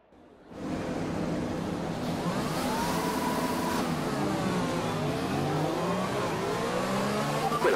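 An F1 2020 race car in Austria revs hard at the race start, a loud steady engine roar with rising, overlapping whines from the surrounding cars.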